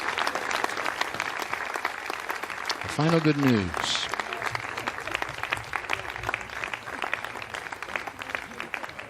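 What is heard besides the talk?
audience applause at Arianespace launch control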